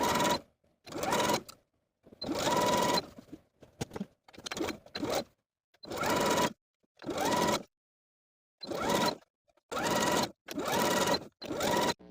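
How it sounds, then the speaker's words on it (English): A sewing machine runs a zigzag stitch to attach elastic along the top seam allowance of a skirt, in repeated short bursts of whirring separated by pauses, close and clear. "Now I'm going to sew the elastic to the top of the skirt, sewing right on top of my seam allowance"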